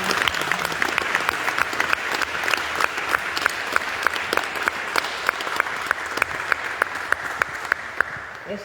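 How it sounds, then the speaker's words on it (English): Audience clapping hands at an ashram gathering, a crowd wash with sharp, rhythmic individual claps standing out near the mic, continuing steadily before tapering at the end. "clapping our hands."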